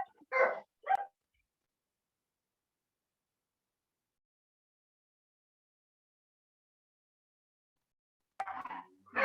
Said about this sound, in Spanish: se escuchan los perros de fondo